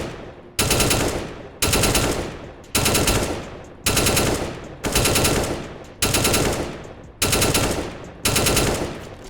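Video game rifle gunfire with an aimbot: eight loud, evenly spaced bursts of rapid automatic fire, each lasting close to a second, with brief gaps between them.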